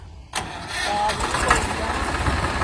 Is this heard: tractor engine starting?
yes